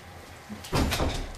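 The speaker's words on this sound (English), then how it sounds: "He's trying to close the door." A door is pushed shut: after a quiet moment a faint knock comes, then a short clattering thump with a brief rattle.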